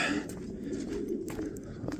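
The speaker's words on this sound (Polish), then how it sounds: "Tutaj muzyczka z gołębnika przez 2-3 dni teraz nie będzie ustawać, cały czas będzie to buczenie fajne." Soft, low cooing of pigeons in a loft fills the space as a continuous murmur, with faint rustling and scattered higher sounds over it.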